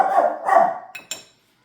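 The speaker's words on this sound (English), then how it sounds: "No barking, Charlie." In a home kitchen during cake baking, a dog gives two muffled barks followed by a couple of short, sharp clicks, fairly close, then silence.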